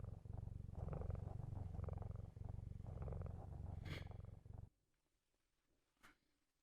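Binky the cat in the video game Facade purring in a low, close, rhythmic rumble that cuts off abruptly partway through, leaving near silence broken by a faint short click or two.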